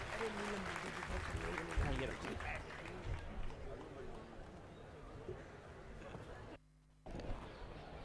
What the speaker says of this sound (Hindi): जोरदार तालियों से उनका अभिनंदन करेंगे